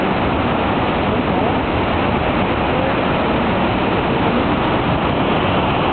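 A continuous, dense rush of falling water, steady and loud throughout, like a nearby waterfall.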